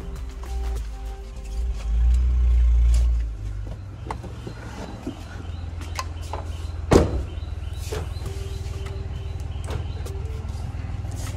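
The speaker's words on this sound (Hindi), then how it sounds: "मैं इसका विंडो नीचे कर देता हूँ" An electric window on an older Mahindra Scorpio SUV slides down with a steady low motor hum lasting about a second and a half, followed by a soft thud and quiet cabin ambience with small clicks.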